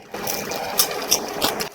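Crusty whole-wheat bran baguette crackles close up, with three sharp, crisp crunches over a soft rustle.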